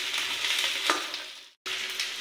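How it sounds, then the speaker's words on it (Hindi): Soybeans fry in mustard oil in a pan, giving a steady, close hissing sizzle that cuts out for a split second before resuming. "सारे सोयाबीन को मैंने इसमें भून लिया है तेल में, सरसों के तेल में।"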